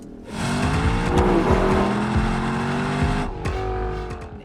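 Lexus LC500 convertible with a naturally aspirated 5-litre V8 revving hard nearby, pitch climbing through sweeping rises, then a brief lift before pulling again.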